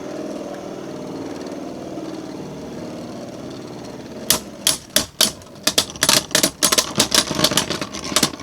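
Beyblade Burst tops, Balkesh.0.Linear-H against Lord Fafnir, spin with a steady low whir in a stadium, then from about halfway clash in a fast run of loud, sharp clicking hits.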